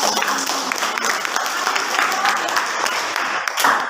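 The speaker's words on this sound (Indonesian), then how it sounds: "Coba tepuk tangan dulu untuk si Neja." Classroom students clap for a classmate during a linear programming lesson, brisk, uneven clapping from a small group, fairly close and loud, with voices talking over it and a brief burst near the end.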